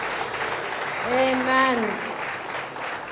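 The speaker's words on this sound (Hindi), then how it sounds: "प्रभु के लिए हम जोरदार ताली बजाएंगे।" A church congregation gives a burst of applause after a closing prayer, a wash of clapping heard beneath a single spoken word from the preacher.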